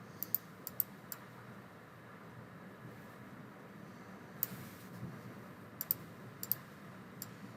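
Faint clicks of typing on a computer keyboard, scattered keystrokes in small bursts over a low background hum, quiet and without talk.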